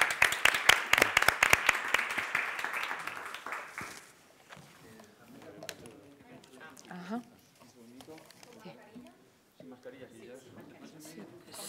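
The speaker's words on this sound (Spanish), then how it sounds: "Un buen aplauso para todos y gracias por participar." Brief burst of audience applause at the close of a health and wellbeing panel session, dense clapping for about four seconds that fades out, followed by quieter room chatter and talking.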